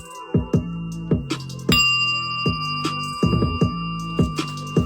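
Bright bell-like chimes and tones ring out in a repeating melodic pattern, each strike decaying with a sustained shimmering ring, loud and close with no voices over them.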